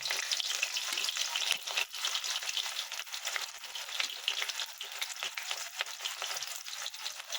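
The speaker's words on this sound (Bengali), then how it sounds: "তেলটা গরম হয়ে গেছে, এবার আমি পেঁয়াজ কুচিটা দিয়ে দেবো" Chopped onion sizzles steadily in hot oil in a pan, a bright, continuous crackling fry heard close up with no talking.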